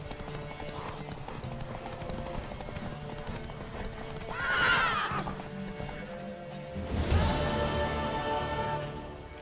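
In The Witcher 3 video game, a horse whinnies loudly partway through, then hooves clatter and a heavy crash or rumble follows, over a steady busy background.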